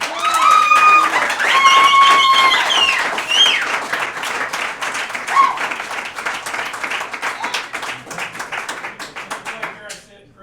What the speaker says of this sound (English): Give yourselves a hand now.